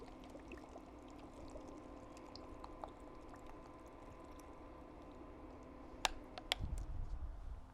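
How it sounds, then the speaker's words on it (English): About three cups of whole milk poured into a pan of sausage gravy for biscuits and gravy: a steady, soft pour under a faint hum, ending with a few sharp clinks and a brief louder splash. "We're gonna put our milk in. This is about 3 cups of whole milk"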